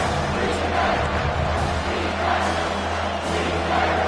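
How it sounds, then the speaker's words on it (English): A stadium crowd roars steadily in the College Football 25 video game, a dense, sustained wash of cheering that holds at full volume throughout. "this crowd is bringing down the house"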